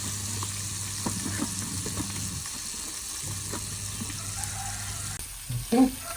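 Alfaham chicken frying in sunflower oil in a covered pan, a steady low sizzle running throughout with faint clinks and a brief louder knock near the end.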